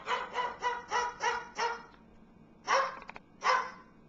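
A pet bird kept in a house imitates a dog's barking: a quick run of six bark-like calls, then a short pause and two more, loud and close with no talk.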